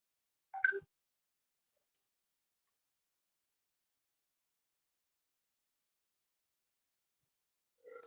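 Computer mouse clicks: two brief, sharp clicks separated by several seconds of near silence, quiet and close.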